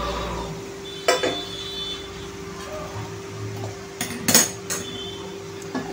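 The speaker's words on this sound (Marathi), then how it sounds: "चला आता आपण हे मसाला मिक्स करून घेऊया." A utensil scraping and clinking in a pan as a spice mix is stirred together with boiled peas and chopped coriander for samosa filling, with a few sharper metallic knocks over a steady background hum and no talking.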